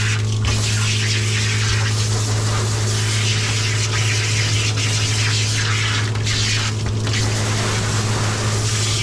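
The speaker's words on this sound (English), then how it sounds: "So we are ready to give her a rinse off. A very good rinse off." Water runs steadily throughout, rinsing a Cavoodle dog during a flea-treatment grooming, a continuous close hiss of tap or hose flow with a low mechanical hum underneath and no voices.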